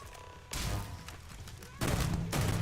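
Sci-fi firefight in Starfield, with bursts of gunfire opening up abruptly and continuing as a dense volley, fairly near and loud.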